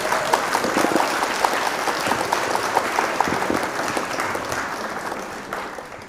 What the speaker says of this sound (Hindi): जोरदार तालियां बजाइए भाई।